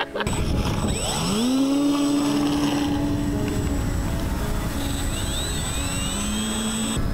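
A twin-motor RC plane flies past, its electric motors giving a loud, steady whine that rises in pitch, holds for several seconds, then drops away and returns more faintly near the end, with no talking.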